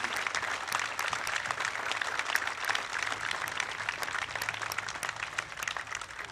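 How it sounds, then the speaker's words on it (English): A crowd at a Memorial Day ceremony at a veterans cemetery applauds steadily, the dense clapping holding even for several seconds at moderate distance. "Let us recognize everyone participating in today's ceremony with a round of applause."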